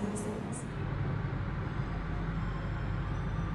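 The Ranggajati passenger train pulls out of Madiun station with a steady, deep rumble of rolling wheels and carriage noise heard from close by, under a faint murmur of background voices.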